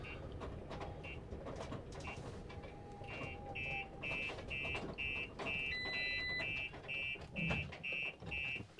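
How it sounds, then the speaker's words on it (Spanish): Fairly faint high electronic beeps of a motorhome anti-theft alarm repeat at a steady, rapid pace over low background rumble after the engine stops. "El motor se ha parado completamente y ya salta la alarma"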